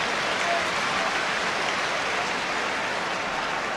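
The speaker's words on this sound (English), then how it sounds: "The applause from the crowd was for Shilton's save." Football crowd at a Nottingham Forest versus CSKA Sofia match, 1980–81, applauding a goalkeeper's save by Shilton: a dense, steady wash of distant clapping and crowd noise filling the whole stadium, even and sustained throughout.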